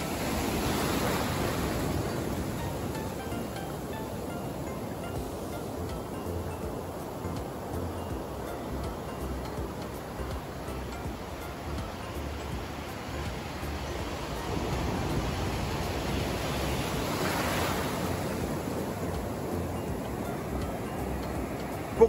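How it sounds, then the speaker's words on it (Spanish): Sea waves washing steadily onto the shore as the tide rises, a continuous soft broadband surf with gentle swells around 1 and 17 seconds, fairly faint and without speech. "La marea está empezando a subir y cada vez me empuja más hacia afuera."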